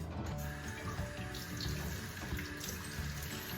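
Tap water runs steadily from a kitchen faucet to fill half a cup with lukewarm water, a continuous close splashing hiss with no talking.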